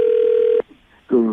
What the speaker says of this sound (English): I just dialed, man.